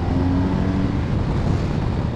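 A 2022 BMW R1250GS Adventure motorcycle accelerating on the road, a steady, loud engine drone under heavy wind rush, with a brief shift in engine note as the quick shifter changes gear.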